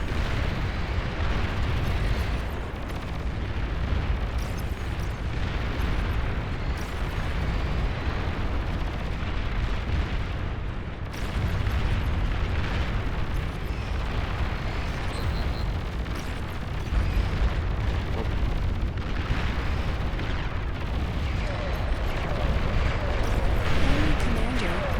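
Heavy explosions and rumbling booms from a destroyed enemy commander in a strategy video game, a dense continuous roar of blasts lasting throughout, with speech faintly mixed in.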